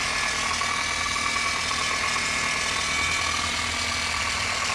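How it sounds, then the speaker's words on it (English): A rotary polisher spins at about 1500 RPM across the sanded gelcoat of a Fountain 31 boat, giving a loud, steady, close whirring drone with a faint rattle and no voices. "let me start polishing. I'm using about 1500 RPM right now."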